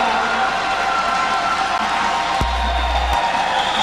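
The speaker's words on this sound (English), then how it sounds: "You hear an uproar from the crowd here." A crowd at a 1993 men's volleyball match against UW Milwaukee roars in a loud, sustained uproar of cheering and shouting that fills the whole stretch, with a deep rumble cutting in briefly near the end.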